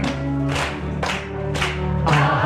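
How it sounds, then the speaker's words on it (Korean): Church congregation clapping in steady rhythm along with a sung hymn, strong periodic claps recurring about every half second over sustained singing and organ-like tones. "박수 치시면서 부르십시다."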